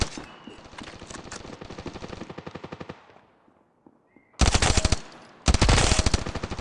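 Rapid automatic gunfire in the mobile shooter Standoff 2 rattles in fast bursts: one long stream that trails off, a short pause with scattered pops, then two louder, tighter bursts close up.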